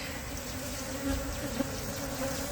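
Honey bees buzzing steadily at the entrance of a hive as they crawl inside, a continuous close drone with slight swells, no voices.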